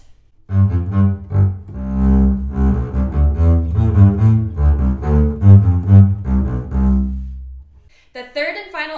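Double bass playing a Bach Brandenburg Concerto excerpt with light, airy, buoyant bowing, a flowing line of low sustained notes played close and clear, ending with a brief faint sound at the close.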